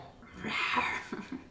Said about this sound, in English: You can hear him in the background growling.